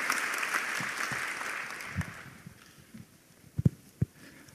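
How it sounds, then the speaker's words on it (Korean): At a Herald Design Forum session, an audience applauds as speakers are welcomed, giving a steady wash of clapping that fades out, followed by a few isolated thumps and footsteps. "Again, big round of applause."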